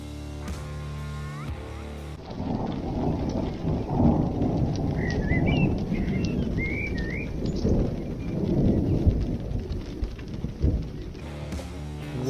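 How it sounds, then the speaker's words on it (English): Thunderstorm with rain heard from inside a parked camper van, a broad steady rumble of downpour and thunder over about ten seconds, with faint birdsong chirping above it. "that was a thunderstorm and a half"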